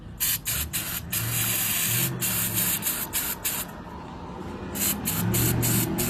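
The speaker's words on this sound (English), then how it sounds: "let's go grab some brake cleaner and spray out the inside of this" Aerosol brake cleaner hissing in a series of short and longer bursts, sprayed to clean out a part during an oil change, close and loud, over a low mechanical rumble.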